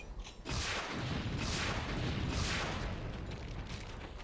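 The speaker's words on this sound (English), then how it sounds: "Shoot the rocket and fire" A rocket launched at a Baron of Hell in a first-person shooter game: a short muffled thump, then a loud, sustained roaring blast that swells twice and fills the whole clip, with no talking.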